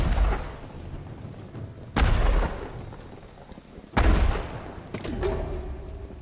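Gunfire in the video game Ghost of Tsushima Legends: heavy booming shots at roughly two-second intervals, each a sharp loud crack with a rumbling decay, over faint game ambience.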